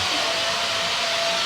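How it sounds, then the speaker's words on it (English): A grinder works on cars in the background of an auto repair workshop, a continuous harsh whirring hiss with a steady high tone, loud and unbroken throughout, with no voices. "they're grinding on cars right now."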